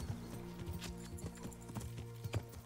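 Horse hooves clip-clopping in the medieval game Kingdom Come: Deliverance, a steady run of soft, low thuds under a busy game background, with no talk.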